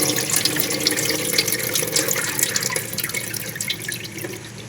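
Water pours off soaked palm-flour semolina into a vessel during washing, a steady splashing, gurgling stream that stays fairly loud and continuous throughout, with no talk.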